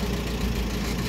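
An old car's engine running: a steady, low, rumbling hum that stays even for the short stretch, with no voices over it.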